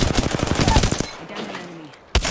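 Rapid video game gunfire in a battle royale match, a dense run of sharp shots for about a second, then quieter rumbling and a final loud burst at the end.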